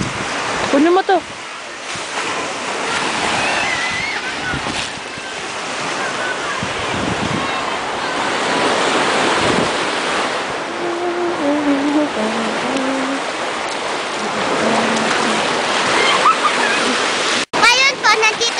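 Sea waves and wind rush loudly around a boat setting out on a sea trip from Batangas, with constant splashing and wind buffeting the microphone while people talk over the noise.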